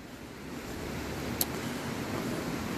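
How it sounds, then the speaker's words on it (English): Water of Gold Brook flows under the covered bridge in Stowe, Vermont, a steady, low rushing wash with one faint tick partway through and no speech. "Let's take a look, see at the brook below first."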